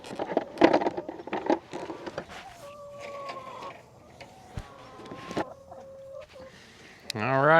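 Young laying hens cluck in a farm coop during an egg count, with several soft, close clucks and low trills mixed with bursts of handling and general activity noise.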